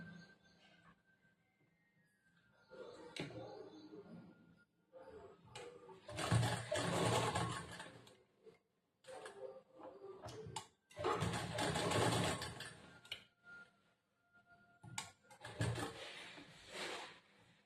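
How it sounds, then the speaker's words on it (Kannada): Sewing machine stitching piping along the edge of a plain blouse: two or three bursts of steady mechanical whirring a few seconds long, separated by pauses with faint handling noises and soft talk. "ಇದ್ರ ಪಕ್ಕದಲ್ಲೇ ಹೊಲಿಗೆ ಹಾಕೊಂಡು ಹೋಗಬೇಕು ಅಂದ್ರೆ ಇದು ಪೈಪಿಂಗ್ ಆಗುತ್ತೆ"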